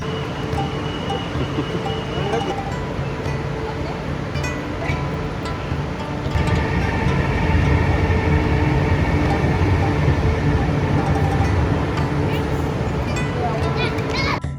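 High-speed bullet train at Shanghai Hongqiao station: a steady rail rumble that swells louder about halfway through and then holds, with crowd chatter and children's voices mixed into the station noise.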